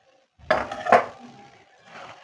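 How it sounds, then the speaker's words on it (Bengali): A lid comes off a cooking pot of chicken bhuna with two quick metallic clinks up close, followed by a faint low rattle and a soft trailing clatter. "ঢাকাটা খুলে দেখে নিচ্ছি"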